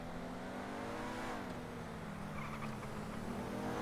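Engine noise of a Nightshark armored SUV driven in GTA Online, a steady loud revving drone with shifting pitch and faint tire noise throughout, no talking.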